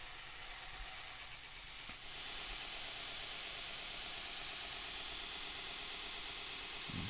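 Belt grinder running steadily as a knife bevel is ground up to a scribed line, a continuous broadband hiss and whir filling the clip with a brief dip near the start, no voices.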